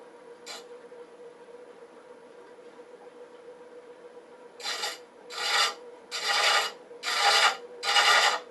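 Boxwood spinning on a lathe while a hand chaser cuts threads, one short scrape and then five rhythmic rasping passes close up, each about half a second long.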